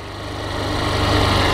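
Motorcycle engine revving close to the clutch biting point, a steady loud drone that rises slightly and holds through the whole stretch, close by with no voices.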